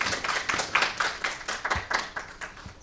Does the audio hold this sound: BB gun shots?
no